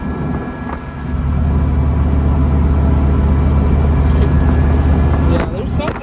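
A 1966 VW Split Bus with dual carburetors cruising in fourth gear, its engine a steady, loud, low drone with road rumble that swells after a second and holds constant, ending with a brief knock.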